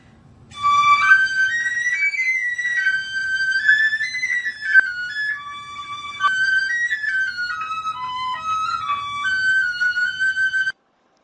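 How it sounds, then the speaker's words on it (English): A solo piccolo plays a very high, pure-toned melodic line of sustained and gliding notes, clear and close, for about ten seconds with no talking. "That's the piccolo."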